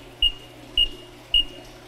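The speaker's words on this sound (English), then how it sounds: "And then we'll hear our double beep" Hoot Systems alarm system controller giving three short, evenly spaced electronic beeps over a faint steady hum, close and clear, with no voices.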